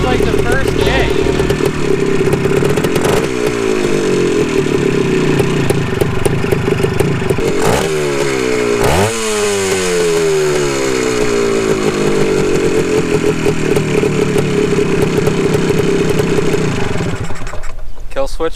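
A restored 1974 Honda MT250 motorcycle engine fires on the first kick and runs loud and steady with a rough, rapping idle, revving up and down through the middle before cutting out abruptly near the end.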